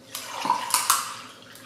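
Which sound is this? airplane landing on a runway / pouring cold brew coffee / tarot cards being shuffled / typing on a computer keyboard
pouring cold brew coffee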